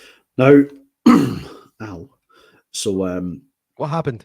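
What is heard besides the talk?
cough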